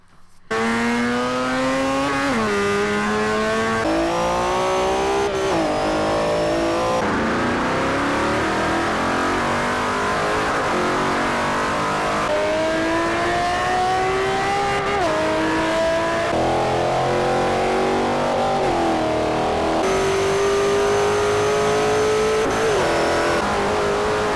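A car engine in the Forza 4 racing game revs up repeatedly through manual gear changes, each rising whine dropping sharply at the shift, loud and continuous with no talk.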